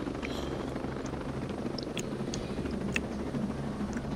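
A helicopter in the video game Ghost Recon Breakpoint hovers with a steady, low rotor drone, while scattered faint clicks and small noises sit on top.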